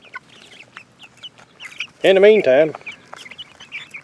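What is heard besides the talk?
chickens clucking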